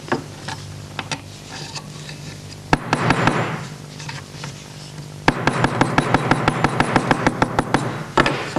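Rapid hammer blows on a copper strip laid on wood, close and sharp, first scattered then settling into a steady quick rhythm of strikes.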